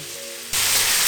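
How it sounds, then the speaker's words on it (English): Finely chopped onion and garlic drop into hot olive oil, a quiet pan suddenly bursting into a loud, close, hissing sizzle that holds steady. "So adding in the onion and the garlic."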